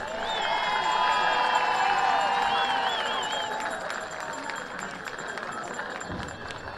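Crowd at a homecoming football game cheering and applauding for Alpha Kappa Alpha sorority members, a broad wash of clapping, whoops and shouts that swells early then slowly fades.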